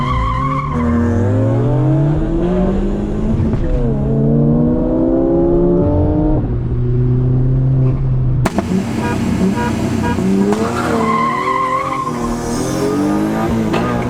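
A BMW E36 M3 and a turbocharged VW Golf 1.8T with a K04 turbo launch side by side. Their engines rev hard and climb through rising gear pulls with brief shift dips, and tire noise follows a sudden cut partway through. No voices are heard.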